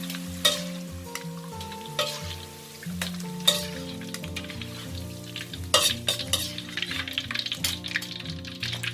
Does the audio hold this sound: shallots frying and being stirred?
yes